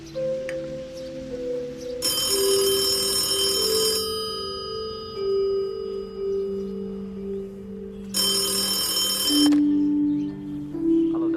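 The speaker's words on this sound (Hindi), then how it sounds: "ऋषभ बाबा का फोन है।" A telephone rings indoors in two clear bursts of bright, bell-like trilling, separated by a pause, over a low steady background hum.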